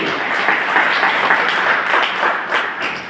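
A church congregation claps together in sustained applause, a dense steady patter of many hands that swells slightly and holds for a few seconds, with no voices standing out.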